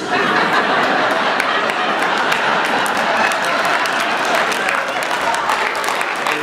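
An audience at a stand-up comedy show clapping loudly and steadily throughout, with laughter and crowd chatter mixed into the applause.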